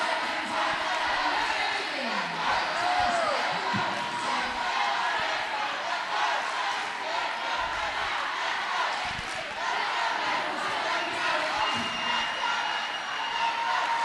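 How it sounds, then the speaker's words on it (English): A small but loud crowd at a roller derby bout chants and cheers for the Westside Glory, a continuous wash of raised voices that fills the whole stretch without pause. "small crowd, but they're making a lot of noise right now"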